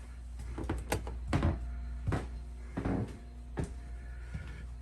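Cabinet drawers inside a 2019 Forest River Sabre RV are opened and shut several times, giving a series of close wooden knocks and thumps over a low steady hum.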